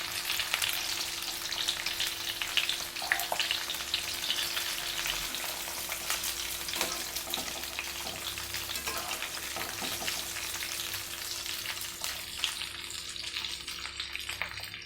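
Stuffed capsicums (bharela shimla mirch, bell peppers filled with spice masala) roast in a pan with a steady, close sizzle and crackle of hot oil. The sizzle runs alone throughout, with no voices.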